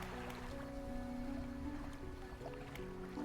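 A small fishing boat engine in the video game DREDGE hums at a low, steady drone with faint water sounds, continuous and fairly quiet.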